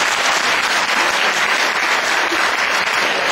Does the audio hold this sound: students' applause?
yes